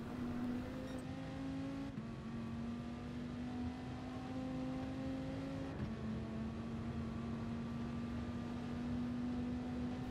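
Dodge Viper Gr. 3 race car engine in Gran Turismo Sport at the Nurburgring 24h circuit, a steady droning tone rising in pitch as the throttle opens, with a brief drop near two seconds and another shift near six, continuous and loud with no talk.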